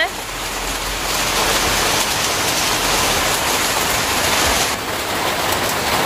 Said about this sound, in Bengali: এই দেখো বন্ধুরা বাইরে কি পরিমাণে বৃষ্টি চলে এসেছে